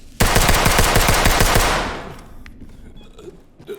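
A short, loud burst of rapid automatic gunfire in the tactical shooter game Ready or Not, about a dozen shots in under two seconds, then a reverberant tail fading into quiet room ambience.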